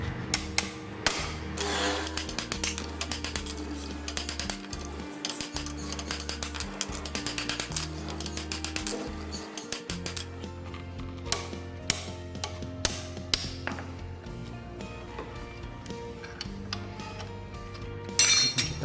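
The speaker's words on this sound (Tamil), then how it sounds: "தட்டி தான் கழட்டணும்." Repeated metal hammer taps on a 17 mm clutch nut of a TVS Scooty Pep scooter, sharp clinks in irregular bursts, close and fairly loud throughout with no talking.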